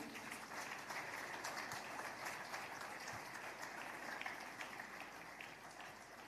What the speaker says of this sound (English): Let's keep the applause going.